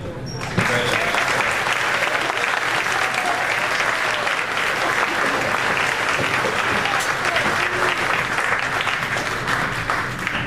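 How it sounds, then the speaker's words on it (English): A crowd applauds 8th graders at a school show, loud and continuous, steady clapping filling the room from start to finish. "We have one more round of applause for the 8th graders."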